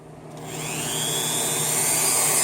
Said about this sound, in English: So I'm going to break out the trusty Dremel, the dome wire brush